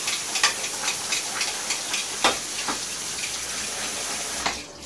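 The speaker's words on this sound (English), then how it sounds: "So let's give that a final rinse." Tap water runs and splashes as zucchini is rinsed at a kitchen sink, a continuous hissing flow with uneven splatters close by, easing off at the very end.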